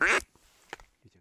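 Several wild ducks quack in loud bursts during a waterfowl hunt over decoys, one strong call at the start, then scattered quieter quacks and a final loud call.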